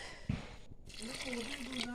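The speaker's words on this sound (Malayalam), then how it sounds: "കുറച്ചുകൂടെ വെള്ളം ഒഴിക്കണേ" A brief thin trickle of water pours into a pot of curry being cooked under a person's speech.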